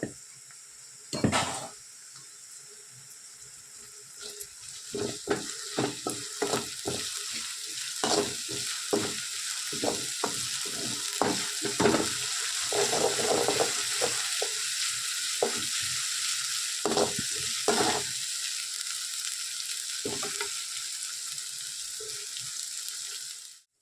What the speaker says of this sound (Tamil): இஞ்சி பூண்டு பேஸ்ட்டு பச்சை வாசனை போகிற வரைக்கும் நல்லா எண்ணெயிலே வதக்கிக்கலாம்